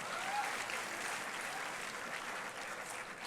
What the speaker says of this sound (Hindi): एक्सेलेंट, जोरदार तालियां।